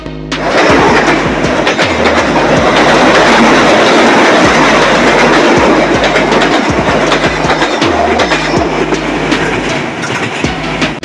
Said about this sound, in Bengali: এই মুহূর্তে একটি ট্রেন আসছে আমি সেই ট্রেনের ভিডিওটি ধারণ করেছি